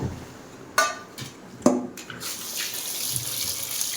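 Ivy gourds are rinsed under a running kitchen tap, a steady splashing stream of water with a couple of sharp knocks as the vegetables shift against the bowl or sink.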